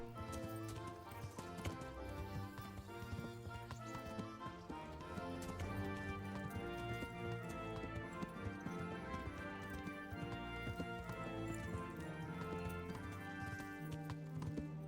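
Rhythmic clip-clop of a horse's hooves trotting steadily along in the Kingdom Come: Deliverance video game, continuous and fairly quiet under a dense musical and ambient game soundtrack.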